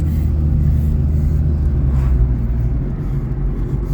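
A lowered automatic VW Golf on coilovers driving along, its cabin filled with a loud steady low road and engine rumble that eases slightly toward the end.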